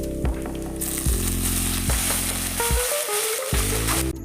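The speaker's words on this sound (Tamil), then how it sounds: "நல்லா பொன்னிறமாக வதங்கட்டும்." Fennel seeds and curry leaves fry in hot oil for hotel-style idli sambar, giving a loud, steady close sizzle with brief stirring knocks and scrapes.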